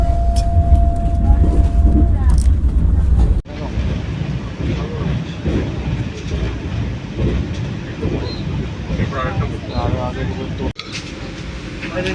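The 22227 Vande Bharat Express from NJP to Kamakhya runs along the track, heard from inside as a loud, steady rumble and rattle with a couple of abrupt cuts.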